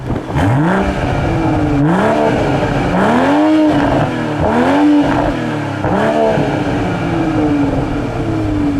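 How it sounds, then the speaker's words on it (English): A BMW M340i exhaust roars loudly through repeated rising revs and gear shifts, the engine note climbing and dropping several times in quick succession. "It has a lot of power, a lot of torque, and a pretty strong exhaust note. Take a listen."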